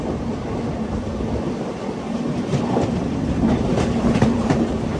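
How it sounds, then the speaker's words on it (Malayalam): Vishwamanava Express from Mysuru to Belagavi rolling into Kengeri railway station, a steady loud rumble of wheels with faint clickety-clack and brief metallic squeals building toward the end. "കെങ്ങേരി റെയിൽവേ സ്റ്റേഷനിലേക്ക് തന്നെ നമ്മൾ ട്രെയിൻ എത്തിയിരിക്കുകയാണ്."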